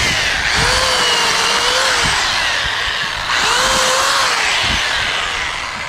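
A SunJoe handheld chainsaw fitted with a brand new blade cuts wood outdoors, its loud steady motor whine rising and falling in two long cutting passes, close up with no talking.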